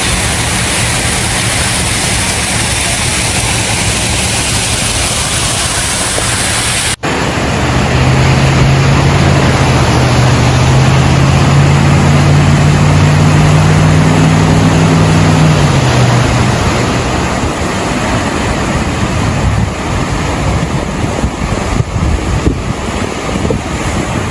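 Car pushing through floodwater on a flooded street during a storm, a long loud rushing wash of water and wind roar with a low engine hum passing through, near and constant.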